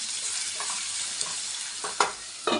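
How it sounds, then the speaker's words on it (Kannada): Tomato dosa mixture fries with salt in a pan, a steady close sizzle with a few spatula scrapes and stirring knocks breaking through near the end. "ಇದೊಂದು ಸ್ವಲ್ಪ ಚೆನ್ನಾಗಿ ಫ್ರೈ ಆಗಲಿ"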